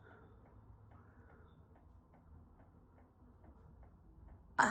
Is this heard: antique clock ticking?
yes